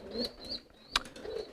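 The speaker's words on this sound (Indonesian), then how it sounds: "Ini merpati jambul." Crested pigeon calling faintly in short bursts, with a soft flutter and a sharper sound near the middle of the brief stretch.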